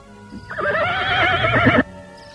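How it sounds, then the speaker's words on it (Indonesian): A horse whinnies loudly and close by, one long quavering neigh lasting over a second, preceded by a brief snort and followed by quiet. "Luh Jinggan melompat turun dari punggung kuda"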